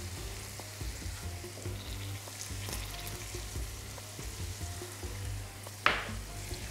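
Finely ground flour mixture cooking in a pan while being stirred, a low steady frying crackle with scattered light scrapes and one sharper clink near the end.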